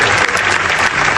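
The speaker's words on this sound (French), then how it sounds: "Vraiment, applaudissez d'abord pour vous." Audience at a one-man comedy show breaking into applause, a short, loud, continuous wash of clapping hands.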